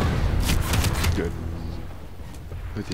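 Hand cannon gunfire in Planetside 2, a quick cluster of sharp, loud shots in the first second, then fading into quieter game noise while someone talks.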